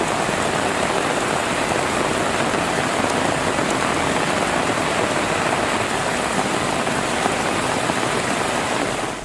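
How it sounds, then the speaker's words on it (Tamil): Heavy rain pouring steadily in Sivaganga, a dense, continuous hiss of rainfall on surfaces that stays loud and unbroken throughout, with no voices. "சிவகங்கை சாலை உள்ளிட்ட சுற்றுவட்டார பகுதிகளில் கனமழை வெளுத்து வாங்கியது"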